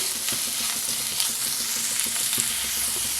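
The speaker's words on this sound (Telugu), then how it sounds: "ఇవి వేసేద్దాం బాగా కలుపుకుందాం ఇది చక్క ఫ్రై అయిపోవాలి" Dried prawns fry in a pan with a dense, continuous sizzle while a utensil stirs them, and soft rhythmic scrapes and taps rise above the steady crackle throughout.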